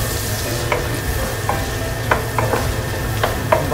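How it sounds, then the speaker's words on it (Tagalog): Onions fry in a pan as the base for a garlic seafood butter dish. A continuous close sizzle is broken by several sharp stirring scrapes and clinks, with no voices. "Hintayin lang natin itong maluto itong onion."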